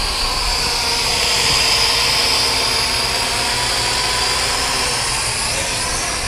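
A Snaptain S5C drone flies nearby outdoors, a steady high-pitched whirring buzz of small propellers holding constant and loud throughout.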